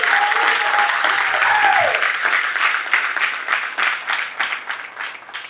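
Sustained applause from the audience at a leadership summit, loud, dense and continuous for the full length, easing slightly toward the end, with a brief voice audible early on.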